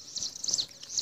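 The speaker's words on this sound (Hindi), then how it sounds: "देखिए पीछे चिड़ियों की आवाज़ भी आप सुन सकते हैं।" Faint high chirps and tweets from small birds repeat in the background, thin and distant over a quiet outdoor hush.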